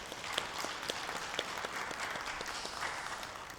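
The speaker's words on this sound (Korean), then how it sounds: "함께 섬겨준 우리 은평찬양팀 박수로 격려하겠습니다" Congregation at a church service claps for the praise team, a soft, steady patter of applause heard at a distance, continuous and even throughout.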